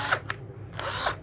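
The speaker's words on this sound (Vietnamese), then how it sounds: "Rồi, thử máy cho anh em nè." A used Japanese cordless drill driver is test-run with two quick whirring bursts, then a longer steady spin. It sounds close and fairly loud over a faint background hum.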